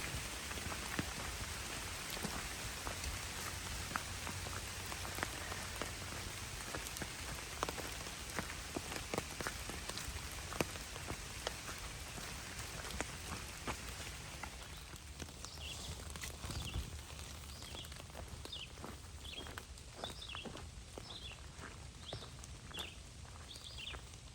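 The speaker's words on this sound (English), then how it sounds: "you can probably hear the rain" Rain falls on the Appalachian Trail in a steady patter of drops striking nearby surfaces, with irregular louder drips pattering throughout, continuous and fairly close.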